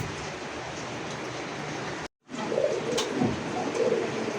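Domestic and foreign-breed pigeons kept for sale coo in low, repeated murmurs amid background noise, and the sound drops out briefly partway through before it resumes.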